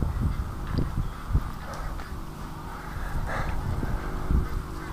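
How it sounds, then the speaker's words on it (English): Ducks in a pen calling, a dense, continuous chorus of quacks and honks from many birds close by, with no talking. "The ducks are freaking because of me down in the swamp"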